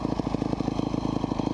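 A Yamaha motorcycle engine idles steadily just after a kick start, close and loud, with a rapid even pulsing beat and no talking.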